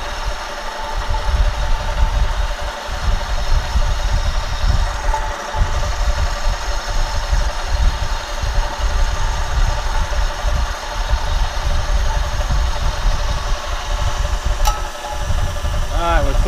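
A machine spinning at about 600 RPM as it cuts metal during a rotary welding table build, giving a loud, steady mechanical drone that runs unbroken from start to finish.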